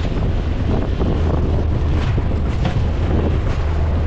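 Steady, loud rush of wind and sea surf, with rolling waves churning continuously up close and heavy wind buffeting throughout; no voices.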